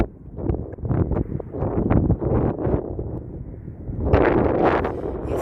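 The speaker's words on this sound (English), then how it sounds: "This windy out here this morning" Strong morning wind on Las Vegas Boulevard buffets the microphone in loud, rough gusts, with rumbling bursts that swell and surge toward the end, close and continuous.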